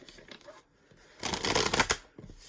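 Tarot cards are shuffled close up, a soft riffling flutter that swells into a brief denser burst of card slaps and rustle, quiet and alone.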